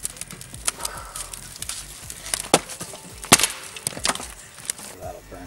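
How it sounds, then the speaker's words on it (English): Pine cones crackling and popping in an outdoor campfire in the woods, a scatter of sharp irregular snaps, a few of them louder and closer, over a faint low crackle. "Pine cones in because they're like little grenades"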